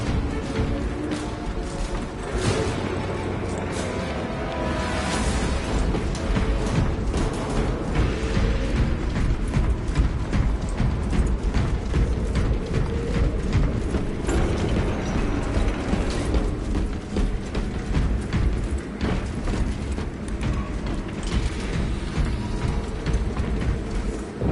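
A weapon reloads in Space Marine 2, a dense, continuous mechanical ratcheting and clanking that runs steadily and loudly for the whole stretch, with no voices over it.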